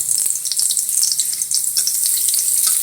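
Garlic and chili pepper fry in hot oil, giving a continuous, close, crackling sizzle that stays loud and even throughout with no voices.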